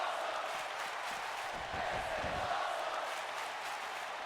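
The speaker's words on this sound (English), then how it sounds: "this crowd is on their feet here" A wrestling arena crowd cheers steadily during a women's match, a loud sustained roar of many voices with no single voice standing out.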